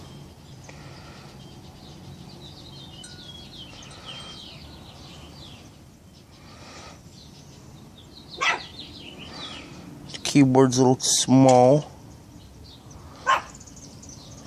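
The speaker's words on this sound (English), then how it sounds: "Sorry if you hear a dog barking in the background." A dog barks in the background of a room in a few sharp bursts, including a close cluster of loud barks, while a person talks quietly nearby.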